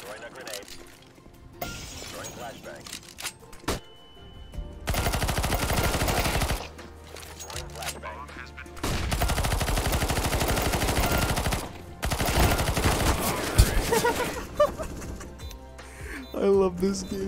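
PP-Bizon submachine gun fire in CS:GO, long sustained bursts of rapid automatic shots in several loud volleys separated by quieter gaps, with a person talking at times.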